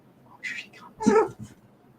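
A pet cat meows twice close to the microphone. The first call is short and the second is louder and longer. There is no talking over it.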